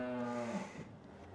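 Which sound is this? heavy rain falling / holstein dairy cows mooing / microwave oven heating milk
holstein dairy cows mooing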